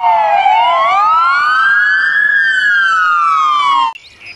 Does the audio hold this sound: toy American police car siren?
yes